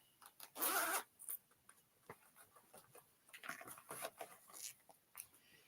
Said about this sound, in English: one of the Missouri Star zipper bags,